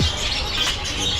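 Birds chirp and tweet in quick, bright bursts over a busy background hum at a bird market, with faint wing flutters mixed in.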